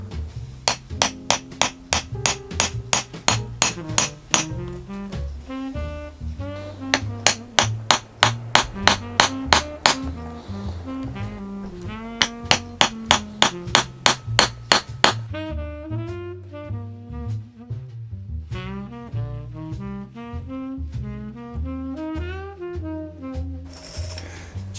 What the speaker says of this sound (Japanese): 真鍮の化粧釘、こいつ打ち込んでいきます。